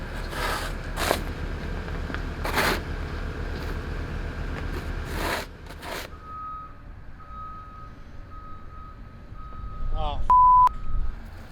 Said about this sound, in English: they were backing the bin truck up